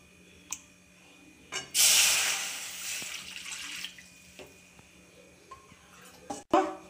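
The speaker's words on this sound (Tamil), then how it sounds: "அதுக்கு இதே கப்பில் தண்ணி நம்ம ஊற்றிக்கலாம்." Water pours into a cup briefly in a hissy splashing burst, followed by scattered clinks and small knocks of kitchenware, fairly quiet overall.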